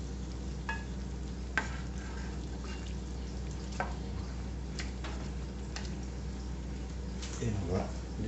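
Cassoulet simmers and sizzles in a pot, a soft continuous bubbling with scattered clicks and scrapes as it gets stirred, a voice talking now and then over it.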